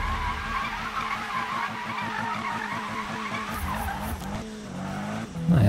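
Drifting car in the Need for Speed (2015) racing game during a drift event, with continuous loud tire squeal and engine roar throughout, alone without talk, shifting slightly near the end.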